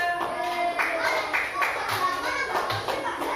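Classroom of children clapping together for a group, a steady patter of many small hands under a teacher's voice and children's chatter.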